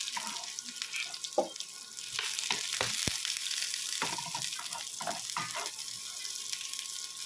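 Garlic, onion and ginger sizzling in a pan for spicy chicken curry, a soft steady hiss with scattered clinks and scrapes of utensils against the pan, moderately close.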